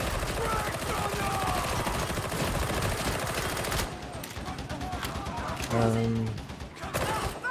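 Rapid gunfire from the video game Darktide rattles in dense bursts, heavy and continuous for several seconds, then sparser shots mixed with game effects and faint speech.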